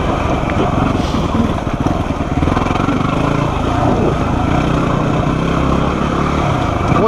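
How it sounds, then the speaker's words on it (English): A Honda XR250 dirt bike grinds along a tight, twisty new trail in super low first gear, its engine a steady, loud drone throughout with wind buffeting the microphone. "One thing I like riding about the XR250 is that super low first gear for those kinds of trails."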